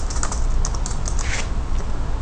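Rapid, close keystrokes on a computer keyboard, a quick patter of clicks with no voice over it.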